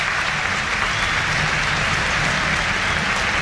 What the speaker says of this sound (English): A standing ovation